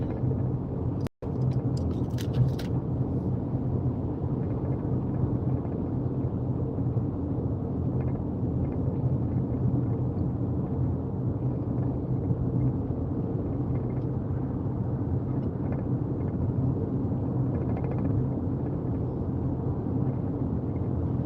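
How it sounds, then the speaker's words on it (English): Steady low road rumble and engine drone from inside a moving car, continuous and even throughout, with one brief sharp click near the start. "the traffic finally caught up to me"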